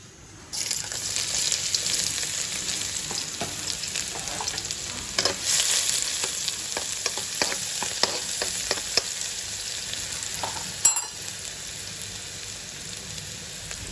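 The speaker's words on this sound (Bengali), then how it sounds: "আজকে আমি মাছটা ভেজে নিব না, কষিয়ে নিব।" Fish braising in a pan with spices, green chillies, beans and potato, a loud continuous sizzle broken by scattered spoon scrapes and clicks, with one sharp knock near the end.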